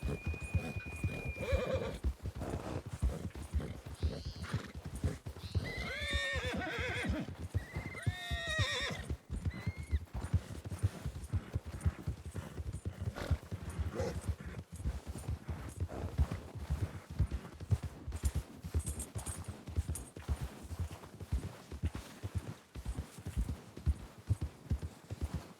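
In the Red Dead Redemption 2 video game, a horse gallops with rapid, steady hoofbeats throughout while whinnying and neighing loudly several times early on, all close and lively, with no talking.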